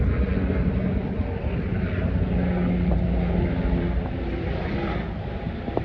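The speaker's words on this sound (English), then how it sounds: "The plane." Airplane passes overhead with a steady, loud engine roar and broad rumble that holds throughout, no talking.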